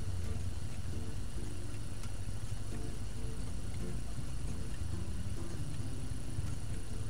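Motorbike engines of a group ride setting off toward off-road hill country, a steady low rumble that holds at a constant level throughout, with several machines idling and revving together close by.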